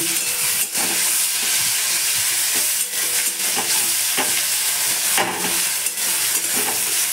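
Ripe tomatoes and salt are stirred into a hot frying pan with onions, giving a continuous loud sizzle with repeated scraping strokes of the spoon throughout, close up and with no talk.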